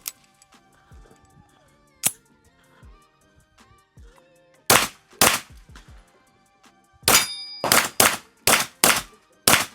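Springfield XD-M Elite pistol firing 124 grain rounds: about nine loud, sharp gunshots, a pair near the middle, then a quick string of shots near the end, with a quieter stretch of faint clinks at the start.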